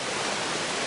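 Steady rushing water from a waterfall in a forested hillside park, a dense continuous roar with no breaks, close and moderately loud.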